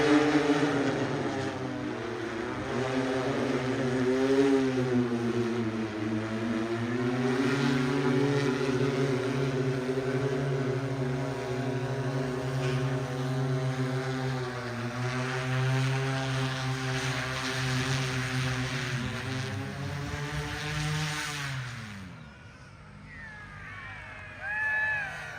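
A Pivotal manned drone comes in to land, its propellers giving a loud, steady harmonic whir that bends in pitch as it descends, then winds down and fades near the end.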